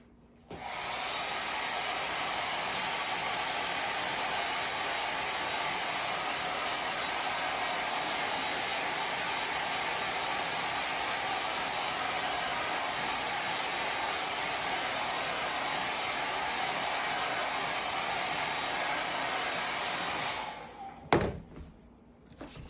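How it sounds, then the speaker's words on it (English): A hair dryer blows with a steady, loud whoosh for about twenty seconds, then switches off with a few clunks. "I don't think I'm going to be able to edit out the blow dryer"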